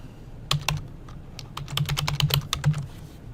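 Keystrokes of a password being typed on a computer keyboard, a quick irregular burst of close, crisp clicks and clacks with a soft low thump under each press, no voices.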